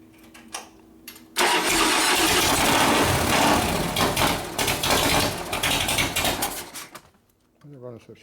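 A 1999 Harley panhead bobber with an S&S 93ci Evo motor, low on oil pressure, cranks and catches at close range, then runs with a loud, uneven idle for several seconds before shutting off; brief voices come before and after.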